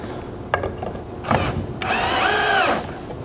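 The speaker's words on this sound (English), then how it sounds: "I'll start this screw in this hole." A power drill drives a screw into the wooden arm of an Adirondack chair, with a couple of short clicks before a brief whir and then a longer, rising whine as the screw seats, loud and close.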